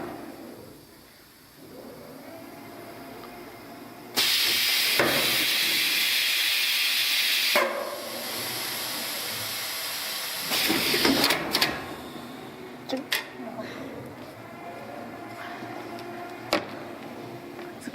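An automatic refrigerator door gasket welding machine runs in a workshop, producing loud sustained hissing and steam-like blasts that start and stop, followed by quieter mechanical clicks and clunks, with no talking.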